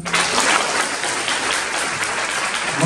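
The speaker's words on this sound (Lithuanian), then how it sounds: "Manau, kad plojimai mus padrašina" An audience applauds at a school event in a progymnasium hall, a dense, steady wash of many hands clapping, loud and close, with no talk over it.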